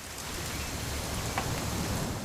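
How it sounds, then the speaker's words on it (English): Steady rain patters over a scene in the video game What Remains of Edith Finch, a dense even hiss of drops at moderate level with no other sounds standing out. "It's gonna rain the whole weekend, isn't it?"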